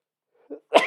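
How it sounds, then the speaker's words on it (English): A single sharp human sneeze, close and loud, preceded by a brief soft intake of breath, then cut off; no talking. "I sensed that sneeze coming"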